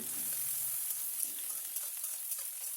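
Dried red chillies and curry leaves frying in a tempering after mustard seeds, cumin, onion and green chilli went in, a soft, even hiss with faint crackles, fairly quiet and close, and no voices.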